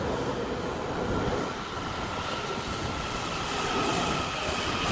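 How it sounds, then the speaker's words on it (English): A DC Metro train rumbles past close by, a dense, steady roar of wheels on rails with a faint squeal, no voices. "this is the original train I had in the schedule"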